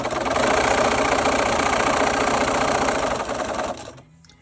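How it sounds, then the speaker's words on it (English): Sewing machine stitching a zigzag seam while gathering fabric: a loud, rapid mechanical whirring chatter running steadily for a few seconds, then stopping abruptly. "I'm going to put it on zigzag stitch."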